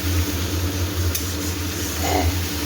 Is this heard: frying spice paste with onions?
yes